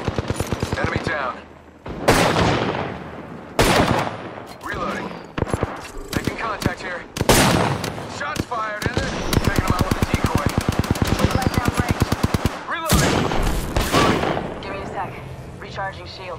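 Gunfire in Apex Legends: close, loud automatic bursts and a long rapid machine-gun stream with short pauses between volleys, while a player talks intermittently over the shooting.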